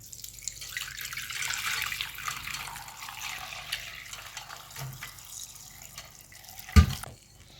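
Chicken yakhni broth poured through a strainer, a steady soft liquid splash and trickle running for several seconds, tapering off before a brief louder knock near the end.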